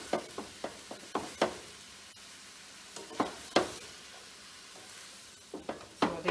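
Vegetable hakka noodles are tossed with two spatulas in a non-stick pan, sharp scraping clacks landing in quick clusters over a soft sizzle, close and alone.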